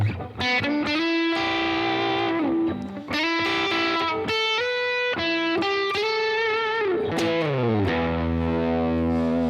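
Electric guitar through a Shiny Shiny Black fuzz pedal, thick saturated sustained chords and bending notes with heavy buzzing harmonics, loud and continuous, ending on a ringing low chord.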